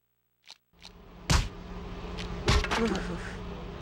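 Insect buzzing from bee enemies in the Justice League Heroes game on PS2, a low drone under brief swells and bursts of action noise, with a couple of sharper hits along the way.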